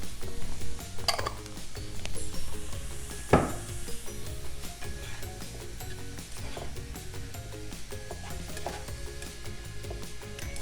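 Zucchini stirred in a hot pan, with scraping and clinking of utensil on cookware over a steady sizzle, including one sharp clank, and no talk.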